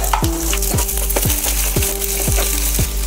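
Onion frying in a pan with garlic and ginger for a dal dish, a steady sizzle carried by repeated stirring scrapes about every half second, close and fairly loud, with no voices.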